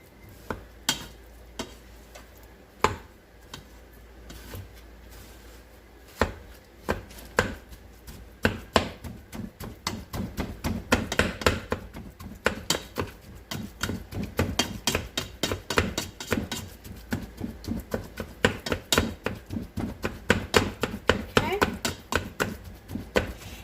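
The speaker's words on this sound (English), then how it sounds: "mash up this turkey sausage in that so it can fry up real well" Turkey sausage mashed and broken up in a frying pan: dense, quickening clatter of utensil strikes and scrapes against the pan, close and fairly loud, with faint sizzling beneath.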